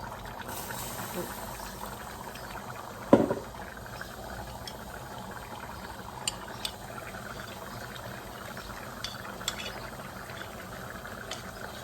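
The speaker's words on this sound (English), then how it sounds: "Into this bowl I'm going to add about 1/2 cup of water" Water pours into a bowl in a soft, continuous trickle while making a corn flour thickening mix for Nigerian meat pie, with one louder knock near the start and faint kitchen clicks throughout.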